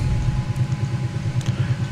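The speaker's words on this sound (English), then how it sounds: "Engines are spooling down." Bell 222UT helicopter engines spooling down in a flight simulator game: a steady, loud low rumble with a pulsing throb, continuous throughout with no talking.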